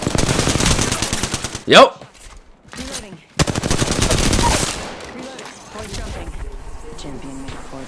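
Rapid automatic gunfire bursts in an Apex Legends match, loud close rattling volleys with short pauses and a sharp sweep, followed by quieter game effects and brief talk over the action.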